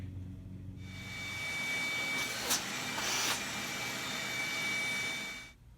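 A handheld rotary tool whines steadily while carving the wings of a wooden owl, rising from silence and holding a high, even tone with brief louder bursts as the bit bites into the wood, then cutting off.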